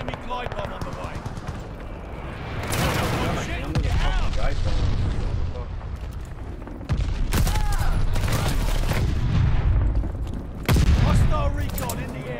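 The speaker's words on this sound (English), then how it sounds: "Got an enemy glide bomb on the way." Heavy explosions and booming blasts from an enemy glide bomb strike in Call of Duty: Vanguard, loud and repeated, mixed with gunfire and battlefield chaos while players talk over it.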